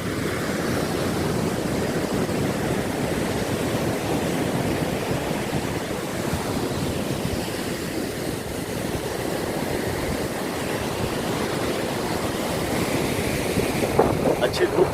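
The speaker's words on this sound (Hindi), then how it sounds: "आइए समंदर के दर्शन करें।" Sea waves wash against the shore under open wind, a dense continuous roar of surf with steady rumbling texture and wind noise on the microphone.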